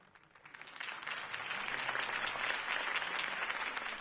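Applause from a crowd swells up quickly and holds as a dense, steady roar of clapping.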